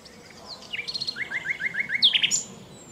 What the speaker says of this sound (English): The nightingale's voice consists of a cascade of trills, whistles, and gurgling phrases.